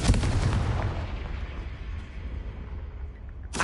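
A Confringo blasting spell cast in a Harry Potter video game: a loud explosive burst at the start trails off into a long rumbling decay, with a second sharp blast right at the end.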